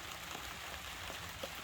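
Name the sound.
rain falling outside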